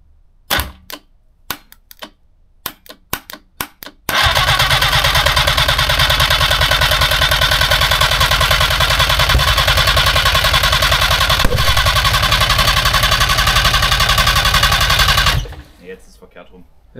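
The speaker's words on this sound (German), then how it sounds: "Jetzt also er hat gerade kurz gefeuert," A Trabant 500/600 two-stroke engine, started for the first time in 50 years, cranks in a few short bursts and then fires into a loud, rapid, rattling run that lasts about eleven seconds before cutting out.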